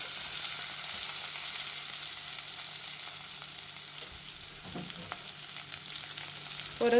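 Carrots and onion sauté in hot oil with whole spices for veg pulao, giving a continuous soft hiss and sizzle broken by a few light stirring clinks near the end. It is fairly quiet, with no voices.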